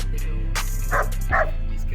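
A dog gives two short barks close by at an outdoor expo in Wyoming, over a steady low engine-like hum and background noise.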